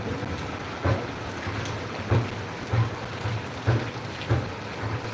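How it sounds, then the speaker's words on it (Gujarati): Steady rain falls in Kundal, a constant wash of drops with soft low thuds recurring about every half second, alone with no voices. "કુંડળમાં વરસાદ આવી રહ્યો છે ચાલુ છે"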